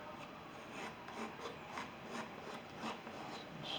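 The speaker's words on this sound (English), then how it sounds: "I'm going to sort of take some off just by sort of scraping across" A palette knife scrapes paint off a landscape painting in a run of soft, repeated rasping strokes, close and quiet.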